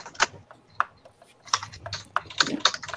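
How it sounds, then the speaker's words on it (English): Someone types on a computer keyboard during a live repair stream, producing irregular, close, crisp key clicks and clacks in uneven bursts, with a faint low background rumble. "Trying to make noise on the keyboard."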